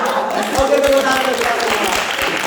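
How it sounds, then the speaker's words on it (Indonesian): Group applause from a student team in a group session, quick brisk handclaps mixed with overlapping voices and chatter, fairly loud and close throughout. "Oke, tepuk tangan."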